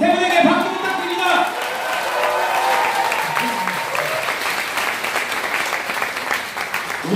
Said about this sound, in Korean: 세 분에게 박수 부탁드립니다